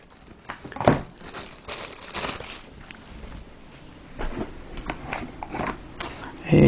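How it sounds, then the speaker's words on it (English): A plastic bag sealed with a hologram sticker is peeled and opened close up, with crinkling and crumpling plastic, a sharp tear, and rustling handling noises. "it comes firstly in a plastic bag, and they even have a hologram sticker"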